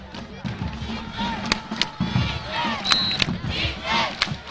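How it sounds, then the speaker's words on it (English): A high school football crowd at a game yells and shouts for the defense, with loud overlapping voices, scattered sharp cracks and a whistle, heard from within the stands. "the crowd yells for the defense to step up"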